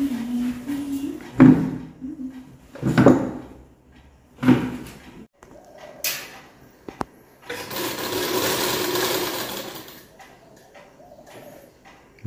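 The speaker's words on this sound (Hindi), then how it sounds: "सिलाई कर रही है, छोटा छोटा काम है इसमें, बहुत देख देख के करना पड़ता है" Sewing machine stitching in a village home, a few short bursts of mechanical whirring and clatter separated by pauses, then a longer steady run of stitching, close and fairly quiet.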